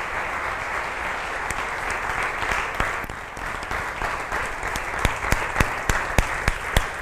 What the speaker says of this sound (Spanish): le damos aplausos grandes,